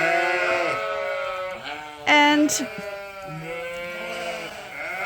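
Sheep bleat in repeated long, wavering calls from several animals on a farm in the morning, loud and near, with a person speaking briefly between the bleats.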